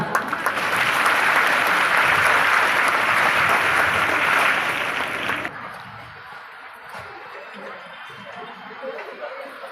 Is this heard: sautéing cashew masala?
no